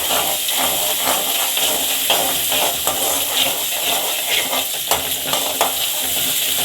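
Ginger garlic paste sizzles loudly in hot oil for a fish curry, a constant frying hiss with rhythmic scraping of a spoon stirring the pan, close and continuous without speech.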